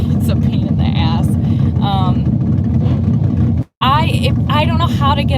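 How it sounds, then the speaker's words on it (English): A loud car idles beside a drag-racing staging lane, its heavy engine rumble steady and close. Nearby talk runs over it, and the sound drops out for a moment. "This car next to me is pretty loud."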